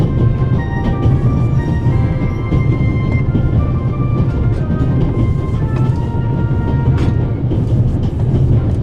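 A train runs on rails in The Raven Remastered, a continuous loud rumbling roll with rhythmic clatter and faint squeals, steady for the whole stretch.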